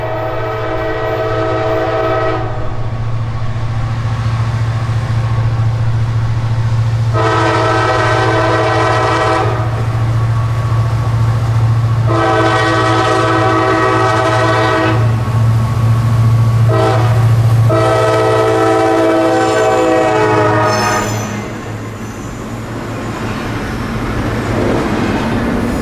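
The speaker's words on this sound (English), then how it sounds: "Places like this let you hear that big EMD engine working hard all by itself." A big EMD diesel locomotive engine labors with a loud, steady low rumble on a local freight in Florida, while several long horn blasts sound over it and the train rolls past.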